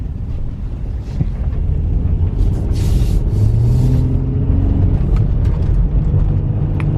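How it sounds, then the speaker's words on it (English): A used car with about 143,000 miles, heard from inside while driving: a loud, steady low engine and road rumble with wind buffeting over it, continuous from start to end, with no talking. "We have a little bit of rattling, but it actually runs pretty darn well."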